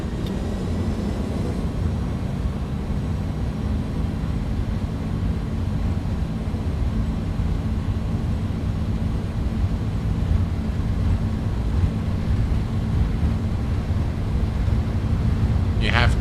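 An iniBuilds Airbus A300 BelugaST rolling for takeoff from Abu Dhabi in X-Plane 11, a steady, heavy jet engine roar that holds loud and constant throughout, with a voice calling out speeds near the end.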